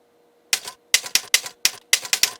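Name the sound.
keyboard artificial typewriter sound effect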